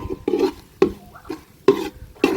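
Beef trotters in coconut oil are stirred in a pan, giving about five distinct scraping strokes with a soft sizzle between them, close and fairly loud.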